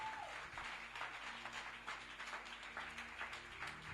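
A church congregation applauds in acclaim of God, a continuous wash of clapping from many hands, steady and fairly distant, with no talk over it.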